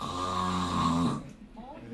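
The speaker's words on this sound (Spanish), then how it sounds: "ronquido severo" A single loud, drawn-out rasping snore with a low droning buzz lasts about a second, then cuts off into near silence with faint breathy noise: severe snoring of the kind accompanying breathing pauses in sleep apnea.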